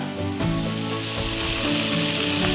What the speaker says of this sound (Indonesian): Kita goreng nggak akan terlalu lama, yang penting sampai udangnya matang aja.